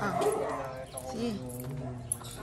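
A dog yips and whimpers in short, close bursts, with people talking nearby.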